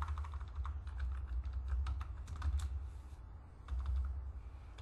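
Keys clatter on a computer keyboard as a firewall IP address is entered, a steady run of quick close taps in short bursts over a low background hum.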